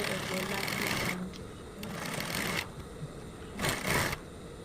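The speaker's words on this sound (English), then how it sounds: "I'm sewing it all round, creating space for the elastic band to pass through." A sewing machine stitches around the edge of a satin bonnet, its steady mechanical whirring running in bursts with short pauses between runs, close by, while a person speaks.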